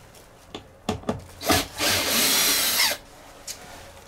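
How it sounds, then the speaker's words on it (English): A power drill backs screws out of a camper: a few short knocks and bumps, then a sustained whirring run of about a second and a half, close up with no speech. "I'm just gonna pull some screws out of here."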